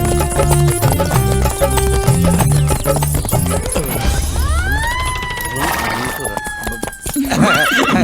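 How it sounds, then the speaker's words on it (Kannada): A horse ridden at speed in a film scene, its hoofbeats clopping under background music before a loud, rising whinny rings out partway through. "ಎಕ್ಸ್ಟ್ರಾರ್ಡನರಿ ಸೂಪರ್ ಆಗಿ ಕುದುರೆ ಓಡಿಸಿದ್ರಿ"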